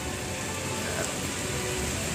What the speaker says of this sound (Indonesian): ini juga sudah mulai turun hujan lagi